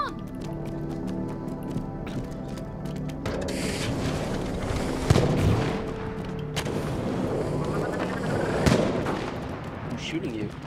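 Gunfire in the game It Takes Two comes as a series of booming shots and blasts over a musical game soundtrack, loud and intermittent, with occasional talk.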